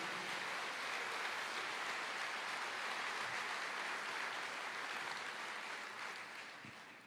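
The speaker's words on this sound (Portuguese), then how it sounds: "Você pode dar uma salva de palmas para o Senhor?" A church congregation claps in praise, a broad, even roar of many hands that carries on steadily and fades slightly at the end.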